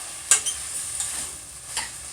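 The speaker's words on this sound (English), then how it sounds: "So I'm frying them up." Food fries in a pan for a Jamaican-style Sunday dinner, giving a steady close sizzle broken by a few sharp stirring scrapes, with no talk.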